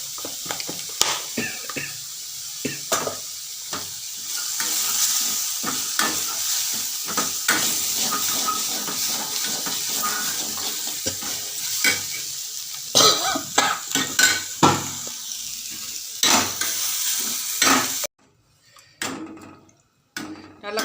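Spicy paneer gravy bubbles and sizzles in a pan while a spoon scrapes and stirs it in repeated strokes, close and steady. The sound drops away abruptly near the end, leaving a few faint clinks.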